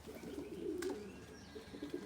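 Racing pigeons coo softly in a low, steady murmur, fairly quiet and close, with no talk over them.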